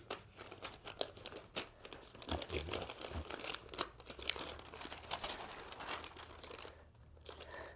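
Glued waterproof paper wrapping for dates is pulled apart at its seam, giving a faint, continuous crinkling and rustling with small tearing crackles throughout.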